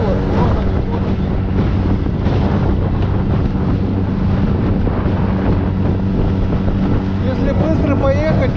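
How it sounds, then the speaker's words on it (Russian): Strong wind buffets the microphone while waves churn and slap against a small boat, a loud, continuous rushing. "Вот такие, друзья, страшные волны."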